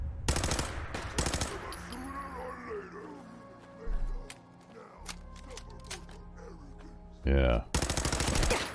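Gunfire in Fallout 4 at a raider, with loud bursts of rapid automatic shots at the start and end and scattered single shots in between. Game sounds play throughout, and a voice speaks briefly.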